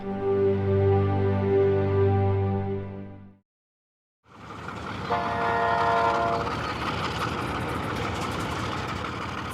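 A train horn sounds in a long steady blast on a Namibian railway line heading east from the Atlantic coast, falls silent briefly, then the passing train's rumble returns with another horn call over the rattling wheels.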